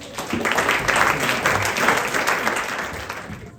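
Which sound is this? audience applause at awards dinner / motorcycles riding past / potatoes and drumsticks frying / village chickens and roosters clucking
audience applause at awards dinner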